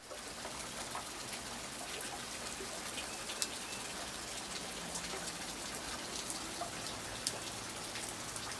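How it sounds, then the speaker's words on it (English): Steady rain falls in an even, continuous hiss with scattered drips and taps, moderately faint and unbroken, with no voices. "It is a really rainy day today."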